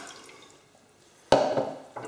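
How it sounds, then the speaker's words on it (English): Milk is poured into a pot for custard, a sudden splashing gush of liquid striking the pot's bottom after a quiet moment, trailing off, then a second brief pour. "Now first of all, just put the milk in there."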